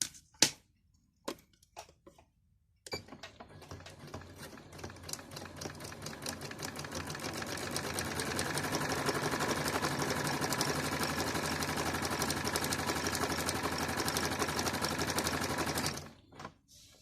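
A plain straight-stitch sewing machine sews a sitara picot edge: a few sharp clicks first, then a long, steady, rapid mechanical rattle close by that stops abruptly, no talking.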